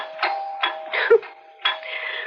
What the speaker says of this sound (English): Why does the back doorbell always ring when you're at the front?